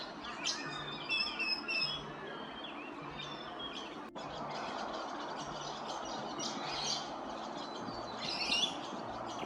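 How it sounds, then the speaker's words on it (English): Birds in Brisbane mangroves call through a lively morning chorus, with repeated chirps and whistles including brown honeyeater calls, mixed with lorikeet squawks and magpie song at moderate distance against a continuous background hiss. "you might be able to hear those brown honeyeater calls, but also the song of the mangroves rugini"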